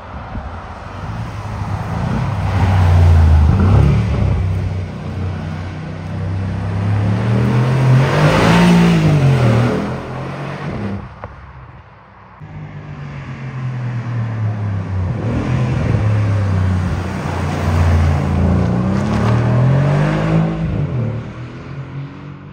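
Mercedes GLC Brabus 600 SUV with a 600 hp engine accelerating hard twice, a loud rising roar climbing through gears, easing off briefly around the midpoint before pulling strongly again, close and without talk.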